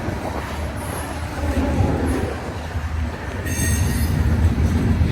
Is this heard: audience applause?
no